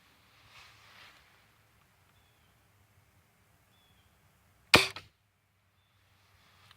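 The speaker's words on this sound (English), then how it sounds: "you can hear the BBs coming out every time" An airgun fires BBs: one sharp, loud crack stands out amid otherwise quiet outdoor surroundings, with faint rustling before it.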